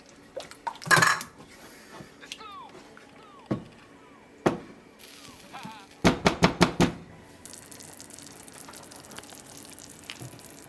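Metal utensils clatter and scrape against a pot of BBQ sauce in a few short bursts, with a quick run of clinks near the end and a quiet background.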